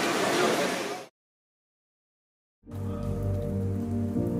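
Rain drips and patters through a roofed shelter at an outdoor gathering, a dense close hiss that cuts out abruptly for about a second and a half, then returns with a steady low rumble beneath it.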